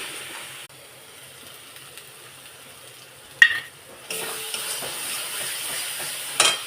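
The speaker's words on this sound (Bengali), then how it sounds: "এবার মশলাটা ভালো করে কষাবো" Spice paste being stir-fried dry in a pan without oil in a home kitchen gives a faint, steady sizzle with scraping stirs, a sharp clack midway and a louder, brighter hiss in the second half.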